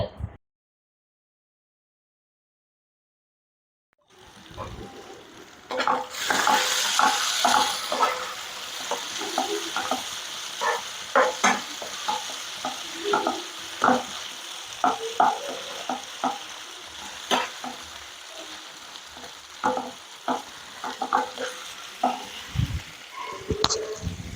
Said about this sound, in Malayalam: ഉള്ളി തക്കാളിയൊക്കെ നന്നായിട്ട് തന്നെ വഴന്ന് വന്നിട്ടുണ്ട്